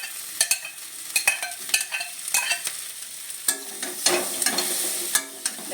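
Fried soybean chunks go into a sizzling pan and get stirred, a steady frying hiss punctuated by repeated sharp scraping clicks of the spatula against the metal, close up and without any talk.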